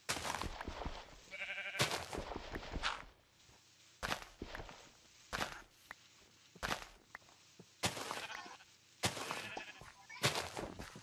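Minecraft sheep bleat several times in short nasal bursts, spaced irregularly through the stretch, alongside sharp clicks and blocky footstep sounds from gameplay.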